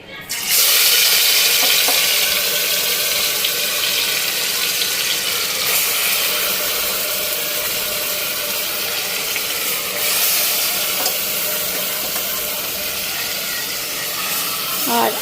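Hot oil sizzles steadily in a cooking pan, a continuous bright hiss that holds at an even, fairly loud level throughout, with a few small clicks and no voices.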